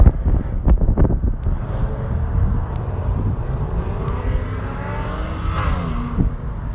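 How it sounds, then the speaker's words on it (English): A motorcycle engine passes nearby, its drone swelling and fading amid wind buffeting on the microphone and a few sharp knocks. "I'll just wait for that motorcycle sound to pass."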